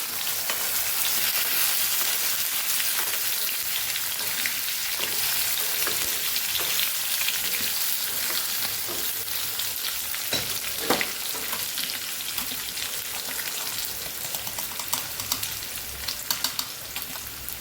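Potato chips frying with ginger and chilli in a pan, a bright steady sizzle close up with intermittent clicking stirs and scrapes of a spoon, no talking.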